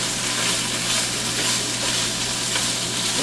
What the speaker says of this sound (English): I'm going to give this a little bit of stir here